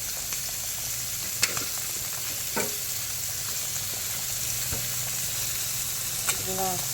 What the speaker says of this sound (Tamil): மீன்லாம் அள்ளி போட்டாங்க. கிண்டி விட்டுலாம்.